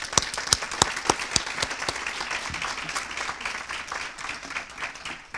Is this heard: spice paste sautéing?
no